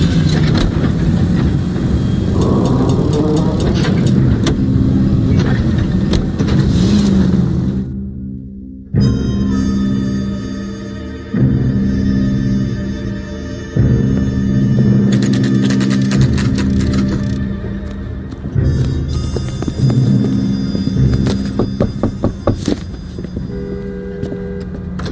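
A car engine drones steadily while driving in the video game L.A. Noire, a loud continuous mechanical rumble with brief dropouts and shifting tones, and no one speaks.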